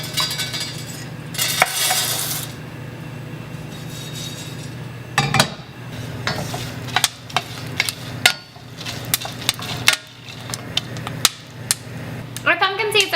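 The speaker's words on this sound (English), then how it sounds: "when the pumpkin seeds hit the pan, they're gonna start popping" Pumpkin seeds toasting in a hot pan, popping and crackling as they turn golden brown. Sharp, scattered pops come close and fairly loud, growing more frequent over a steady low hum of the stove.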